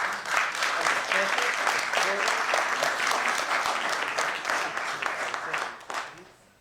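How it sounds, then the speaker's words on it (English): Sustained applause from a lecture audience at a public talk on African liberation and anti-fascism, a dense wash of many hands clapping at full strength that fades toward the end, with faint voices mixed in. "I think that deserves an even bigger round of applause."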